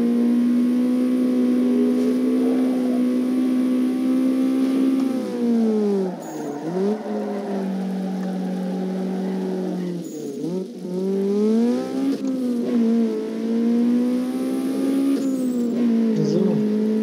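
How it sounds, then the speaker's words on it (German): Car engine revving and accelerating in Need for Speed Underground 2, a loud continuous racing-game engine drone rising in pitch with gear shifts, dipping briefly around shifts and climbing again throughout. "Und ich gebe immer mehr Gas hier hoch."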